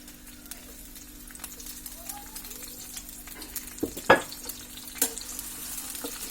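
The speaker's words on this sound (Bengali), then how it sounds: "এখন আমি এর মধ্যে যে রসুন কুচি আর পেঁয়াজ কুচিগুলো আছে সেটা দিয়ে দিব।" Chopped garlic and onion fry in hot oil in a pan, a soft steady sizzle with a few sharp clatters of a spoon stirring near the end.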